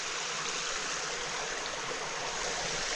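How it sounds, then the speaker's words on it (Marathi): A small water seep trickles behind a village house in the Konkan countryside, a steady, close, broadband rush of running water continuing without a break and with no voices. "दादाच्या घराच्या पाठीमागे ना डायरेक्ट एक झिरपी आहे छोटीशी पाण्याची"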